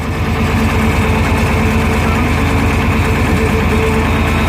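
A 1997 Case 8465 hay baler runs with a steady, loud, low engine drone and a rumbling mechanical vibration, holding constant throughout with no speech.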